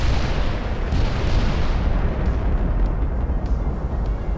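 Battleship shells striking enemy ships in the naval strategy game Ultimate Admiral: Dreadnoughts, heard as a loud, dense roar of rumbling booms and blasts that continues without a break for the whole stretch.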